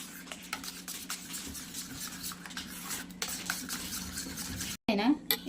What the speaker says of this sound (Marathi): हे आपण ह्या दह्यात टाकून देऊयात सगळं हलवून घेऊयात